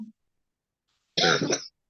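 A person gives one harsh, close cough or throat-clearing burst lasting about half a second, after near silence and a brief low murmur at the start.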